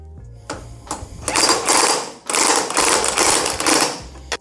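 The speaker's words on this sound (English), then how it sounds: "And I'll quickly show you how I do that real quick with this impact." An impact wrench tightening a bolt on a hitch-mounted rear tire carrier, with a few short bursts leading into two long, loud, rattling hammering runs close by.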